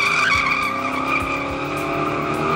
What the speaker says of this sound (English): It still does a one-wheel peel